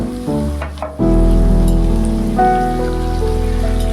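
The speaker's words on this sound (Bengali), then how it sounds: "ভালো মতন নাড়াচাড়া করে আমি যে পেঁয়াজ রসুনের ভাজাটা আছে তার সাথে ভালো মতো করে মিশিয়ে নেবো" Vegetables stir-fried in a pan with fried onion and garlic hiss in a loud, dense, continuous sizzle right up close. Clanks of the stirring utensil come early on, and no one speaks.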